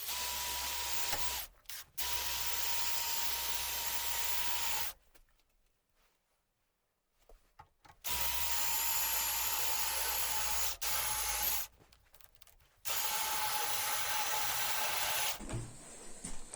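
A drill bit bores through a piece of metal alloy in a workshop, a loud steady grinding whir in several long bursts separated by short pauses.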